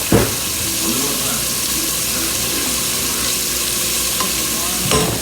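Beef stew with potatoes, carrots and meat cooking in a pot, giving a steady sizzle and bubbling with light stirring and a few clinks from the pot, continuous and fairly close.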